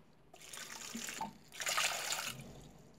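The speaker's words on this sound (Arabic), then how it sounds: "ثم نضيف لها مقدار كوبين كبيرين من الماء" Water poured from a large cup onto peeled potato skins, a close trickling splash that swells in the middle and tapers off.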